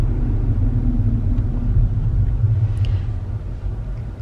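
Steady low rumble inside a moving car, road and engine noise droning evenly throughout with a slight fade near the end; no one speaks.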